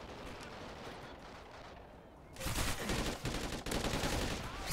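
Burst gunfire in Call of Duty: Ghosts multiplayer, a quiet stretch of background battle noise followed by loud, close rapid bursts of automatic rifle fire in quick succession.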